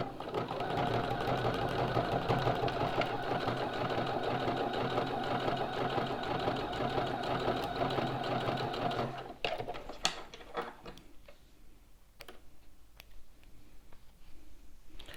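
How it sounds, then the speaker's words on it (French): A sewing machine stitches the side seams of men's underwear, a loud steady mechanical whirring that runs continuously for about nine seconds before stopping, followed by quieter clicks and fabric handling. "refaire la même piqûre de chaque côté pour tenir mes marges de chaque côté"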